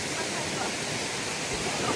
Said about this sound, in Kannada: ನೀರು ಸೌಂಡ್ ಕೇಳಿಸ್ಬೋದು ನಿಮಗೆ. ಫುಲ್ ನೀರು ಸೌಂಡ್ ಚೆನ್ನಾಗಿದೆ.